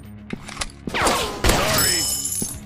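Gun reloading in a robot first-person shooter game: a rapid sequence of mechanical clicks, ratcheting clacks and metallic thumps, with bright sweeping synthetic whooshes and a sharp impact partway through, loud and close.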